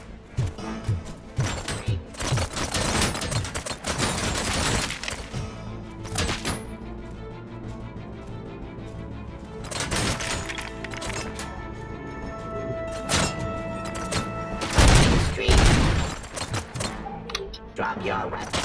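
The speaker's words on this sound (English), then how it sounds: "qua mi mitragliano da qua sopra" Machine-gun bursts rain down from above in Robocop: Rogue City, loud rattling volleys recurring every few seconds amid game noise, with someone talking over them.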